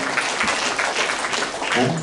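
A church congregation claps continuously during a Good Friday sermon, a dense patter of hands filling the space.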